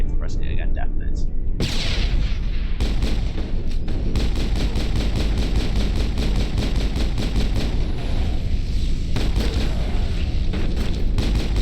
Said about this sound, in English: you can't throw multiple grenades. Pressing it again detonates.